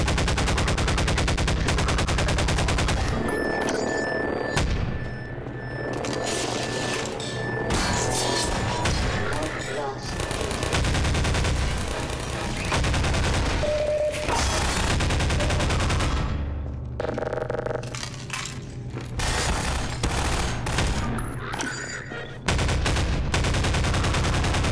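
Gunfire in the video game Half-Life 2: loud repeated shots and machine-gun bursts with booming impacts, broken by short lulls, while a player talks over the action.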